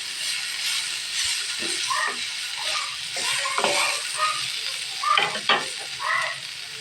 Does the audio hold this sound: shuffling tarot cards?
no